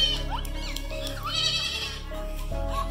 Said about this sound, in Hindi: देखिए दोस्तों यहाँ कुछ बकरियाँ हैं।